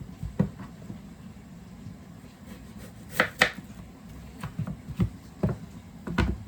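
A knife trims green banana, producing scattered, close, dull cutting clicks and scrapes at an uneven pace, with a few sharper knocks midway against a quiet background.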